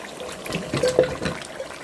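Potatoes are tipped into a pot of spicy chicken curry, making a brief close-up wet splash and liquid slosh with a faint trickle.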